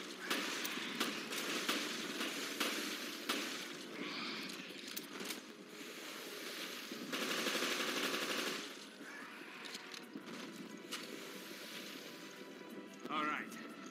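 Bursts of gunfire in Resident Evil: Revelations crack in repeated rapid volleys over a rushing, roaring background, with someone talking across parts of it.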